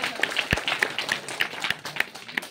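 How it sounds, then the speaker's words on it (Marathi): Audience of a live quiz at a Zilla Parishad school in Darkheda clapping, a fairly quiet, steady, rhythmic run of claps with faint voices in the background. "जोरदार टाळ्या वाजवा।"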